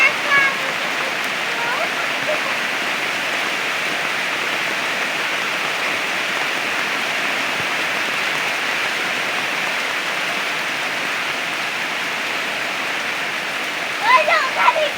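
Steady rain falls continuously, a dense hiss with scattered droplet patter, close and even throughout, with a few brief brighter splashes near the end.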